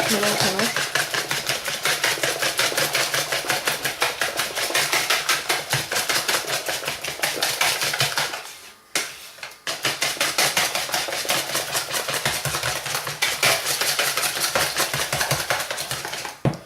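Pancake batter stirred in a bowl, a fast steady rhythm of whisk or spoon clicks against the sides running throughout, with a brief pause midway before the mixing resumes.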